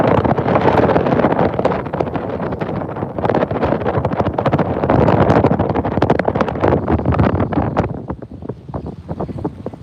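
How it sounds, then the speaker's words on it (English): Strong wind at sea in the Gulf of Mexico during Tropical Storm Bertha, loud gusty buffeting against the microphone with rough, turbulent rumble throughout, easing slightly near the end, no talking. "All right, the wind is picking up, guys."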